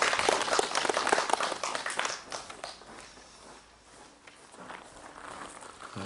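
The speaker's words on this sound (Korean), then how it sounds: "우리 다시 한번 박수할까요?" Applause from a church congregation during a Sunday worship service, a dense burst of clapping for about two seconds that thins out into scattered claps and faint shuffling.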